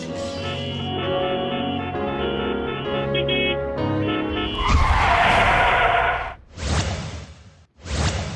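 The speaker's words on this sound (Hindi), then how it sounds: "सड़क से गुजरते हुए अचानक गाड़ियों के ब्रेक लगाने की आवाज सुनकर सब चौंक कर देखते हैं" Tires skid and squeal on a road as vehicles brake suddenly, a loud sweeping screech following a stretch of music, then two sharp bursts of skidding close by.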